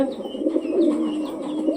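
Domestic pigeons cooing nearby in a continuous low, rolling murmur, several birds overlapping without pause.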